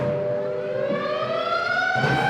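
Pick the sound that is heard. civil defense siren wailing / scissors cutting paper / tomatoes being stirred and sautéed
civil defense siren wailing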